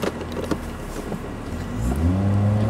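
A BMW 730Li launches at full throttle during a braking exercise, its engine note climbing loudly and steadily under road and wind noise, close by and with no voices.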